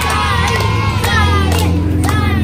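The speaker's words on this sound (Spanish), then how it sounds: "todos aplausos para Sarigüeya" A small group cheers, shouts and claps close by at a backyard penalty-shootout soccer game, a short burst of lively mixed voices with sharp hand claps.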